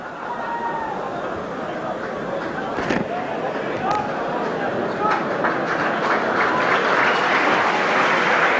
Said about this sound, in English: A sympathetic round of applause as Phil Vevers, well, you can hear the chant of Vevers, Vevers